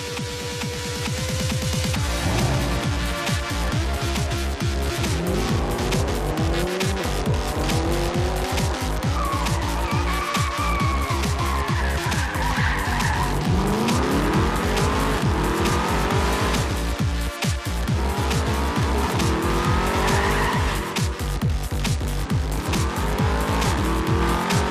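Race cars roar around the Top Gear test track in Gran Turismo 5, with continuous loud engine drone, rising and falling revs, and repeated tire squeals and skids throughout, no talk.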